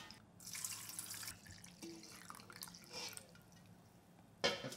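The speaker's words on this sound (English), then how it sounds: "And I will add this broth here." Apple broth for radish water kimchi is poured onto salted radish in a bowl, a soft splashing and trickling stream with light drips, fairly quiet and without talking.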